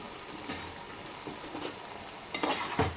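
A utensil stirs a drumstick curry in a pan over low heat, giving a soft simmering hiss with a few scraping strokes and clinks, the sharpest near the end, close but fairly quiet.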